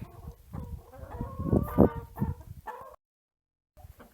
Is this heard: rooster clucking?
yes